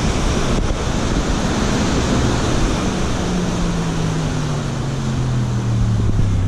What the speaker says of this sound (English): So check out these waves rolling in.